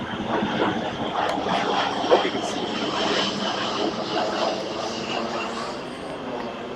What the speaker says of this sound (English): There's another plane flying over.